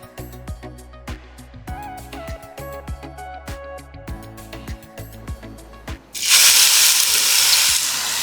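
Onions frying and caramelizing in a pan while being stirred, with repeated sharp clinks of a utensil, then a loud, steady sizzle and hiss swelling up close.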